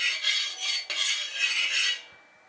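A metal spatula scrapes across a hot griddle on a low flame, spreading oil and ghee for patishapta pitha, in close, steady rasping strokes with a brief break partway through before fading out, with no voices.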